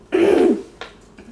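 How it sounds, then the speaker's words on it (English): A single harsh cough, followed by two softer, brief throat sounds, close and clear with no talking, amid a strong cedar smell while assembling a toy kitchen. "I'm legit coughing so much right now"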